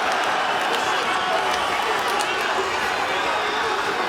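A dense, loud roar from a large MMA arena crowd rising to its feet during a Bellator bout between Pitbull and Daniel Straus, with steady cheering and scattered claps blending into a continuous wash of sound.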